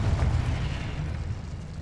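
A booming explosion from the Confringo fire spell in the game Hogwarts Legacy, a loud, rumbling low blast that fades out over a couple of seconds.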